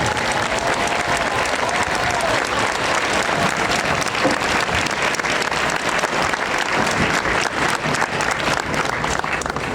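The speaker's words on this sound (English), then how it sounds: "A round of applause, ladies and gentlemen." A large outdoor crowd gives sustained, loud, dense applause at a US Army basic training graduation at Fort Jackson, South Carolina, honoring veterans and retirees, with cheering mixed into the steady clapping throughout.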